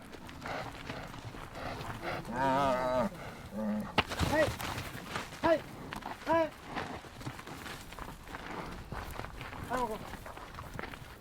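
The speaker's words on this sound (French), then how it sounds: "Là on traverse un troupeau de vaches dont certaines ont vélé." A herd of cows, some with newborn calves, moos in repeated drawn-out calls at close range while footsteps move through the herd and people talk over it.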